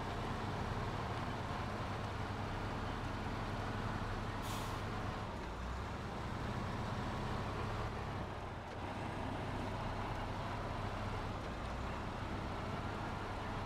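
A heavy truck grinds steadily over rough terrain in SnowRunner's Michigan map, a constant low engine drone and rumble with a brief hiss of air brakes partway through, no talk.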